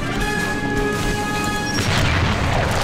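A grenade blast in The Punisher video game, a loud heavy boom that swells and rumbles continuously through the moment with a crashing burst partway in, with no talking over it.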